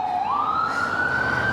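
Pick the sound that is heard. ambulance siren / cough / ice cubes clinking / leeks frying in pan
ambulance siren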